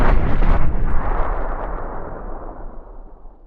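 One loud, close bomb explosion bursts and then rumbles away over about three seconds, alone with no voices.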